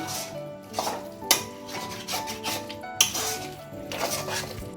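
Spatula scrapes and metal clinks as eggplant and chicken are stirred together in a pan, repeated scraping strokes with a couple of sharper knocks, close and moderately loud, with no voices.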